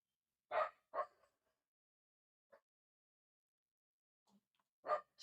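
Zeke the dog gives a few sharp, separate barks with long quiet gaps, one faint soft yip in the middle and another bark near the end, fairly close in a quiet indoor room.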